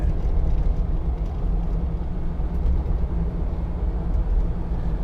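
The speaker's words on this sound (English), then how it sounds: "you get a bit of tyre noise" Inside a 2013 Land Rover Defender 90 2.2 TD hard top fitted with cross-contact tyres, a constant low road rumble and tyre roar come up from a rough, poorly surfaced road as the vehicle drives along steadily.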